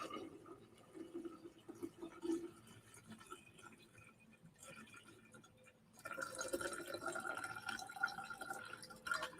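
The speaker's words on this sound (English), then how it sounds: "We're just going to pour our tincture of cinnamon into the jar." Cinnamon tincture poured into a Kilner jar, a soft liquid trickle and dripping that swells into a fuller, steadier stream of filling toward the end, close and moderately quiet with no talk.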